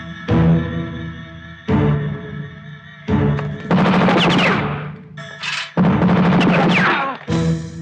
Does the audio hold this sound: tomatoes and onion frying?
no